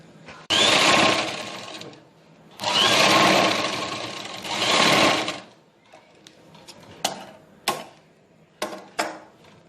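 A sewing machine stitches cloth pieces for a cosmetics bag: three long, loud buzzing runs of rapid needle strokes, then a few short clicks and clacks as the fabric is handled, close by.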